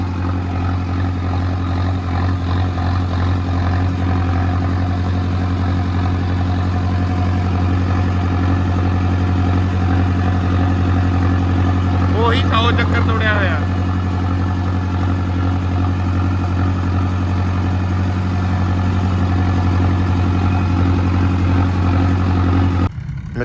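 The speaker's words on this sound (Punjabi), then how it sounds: "ਆਹ ਖੜਾ ਆਪਣਾ ਟਰੈਕਟਰ ਹੁਣੇ ਲੈ ਕੇ ਚੱਲਦੇ ਆ ਪਿੰਡ ਨੂੰ" A tractor idles nearby with a steady, loud low-pitched hum that holds unchanged throughout, broken only by a brief higher-pitched sound partway through.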